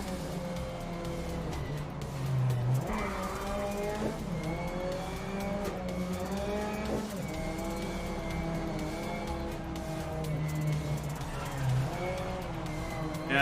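A race car in the GRID Legends racing game, engine revving up and down through gear changes with tire squeal and skidding, loud and close throughout with brief tonal sweeps.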